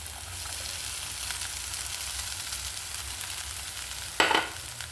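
Cooked prawns go into a pan for a prawn roast, giving a steady sizzle and stirring scrape throughout, with a louder burst of frying near the end as they hit the hot oil.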